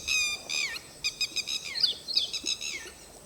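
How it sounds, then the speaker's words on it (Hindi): Birds call and chirp outdoors in a run of bright, repeated notes and short trills at a fairly close distance, with no talking and a faint background hush. "पंछी चिल्ला रहे हैं"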